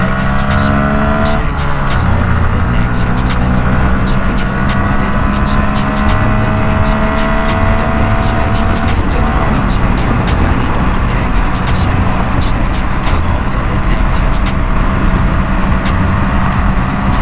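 A 2022 Honda Grom motorcycle runs flat out at top speed, its small engine droning loud and steady over heavy wind rush, with pitch rising and settling through gear shifts; a rider talks over it.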